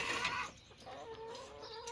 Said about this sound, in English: Hungry chickens again, hungry chickens.